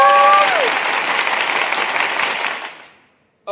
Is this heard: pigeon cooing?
no